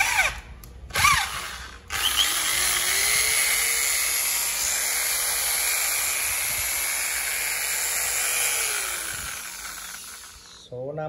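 A small electric household drill with a 6 mm chuck, suited to drilling aluminium and iron, runs with a steady high whine for several seconds after a few short starts, then winds down; handling clicks are heard near the beginning.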